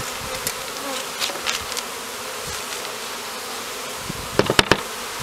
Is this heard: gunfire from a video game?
no